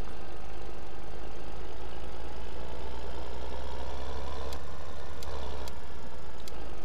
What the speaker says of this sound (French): Voilà notre Arion, tracteur que j'aime beaucoup ces derniers temps.